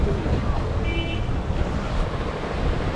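Sea waves wash against the shore beside Diu Fort, a coastal fort on the sea edge, as a steady broadband roar of surf mixed with gusting wind noise on the microphone, continuous and close throughout.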